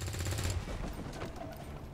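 A single gunshot from a rifle in the turn-based tactics game XCOM 2 cracks loudly at the start, followed by a short decaying tail over steady background game ambience.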